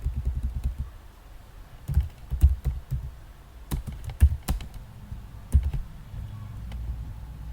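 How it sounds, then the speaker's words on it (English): Steady typing on a computer keyboard during a Python programming session, a rapid stream of soft clicks broken by a few louder, sharper key strikes, close and with no talking. "Oh, why am I typing again?"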